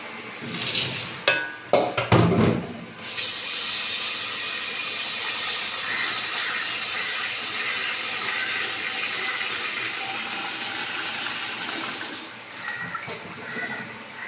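A few brief clattering knocks, then a steady rush of running water pouring continuously for about ten seconds, loud and close, easing off toward the end.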